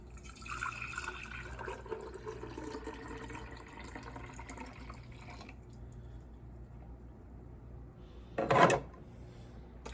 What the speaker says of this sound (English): Okay, and now we pour the grapefruit in its jar.